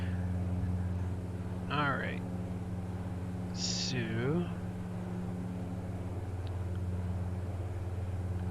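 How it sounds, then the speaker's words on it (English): Twin turboprop engines of a Saab 340 in the X-Plane 11 flight simulator drone steadily with a constant tonal hum throughout, while someone speaks briefly over it. "Engine sounds gets a little repetitive."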